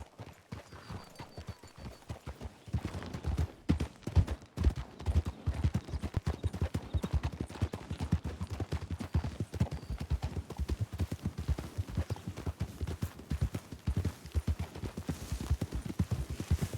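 Horse hooves clip-clop steadily in a roleplay video game, a fast dense rhythm of close, loud hoofbeats running throughout with no talk.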